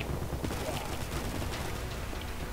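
Rapid automatic fire from an M4 rifle in the shooter game Combat Master, a dense continuous rattle of shots filling the whole stretch at steady loudness.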